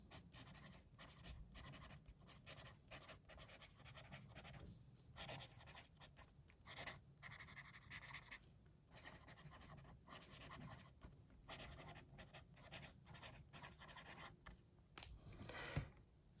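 A Benu Tribute Darwin fountain pen writing on paper, a continuous close scratchy stroking with short pauses between words, faint and without speech.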